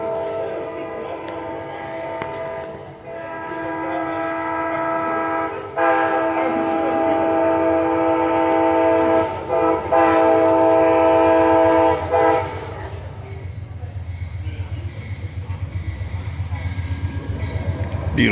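Amtrak Silver Star passenger train, led by a P42 locomotive and running to Miami, passes close by with a loud sustained multi-tone horn blast, then the rumble and clatter of the cars rolling past.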